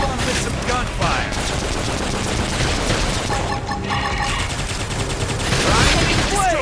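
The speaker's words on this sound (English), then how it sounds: "Topple them with some gunfire!" Rapid gunfire bursts crackle through a Xenoblade Chronicles X battle, dense fusillade-like volleys with booming impacts layered over game effects and combat voices.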